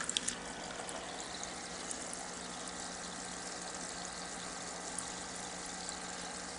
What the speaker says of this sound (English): See the amount of bubbles and airflow we get there.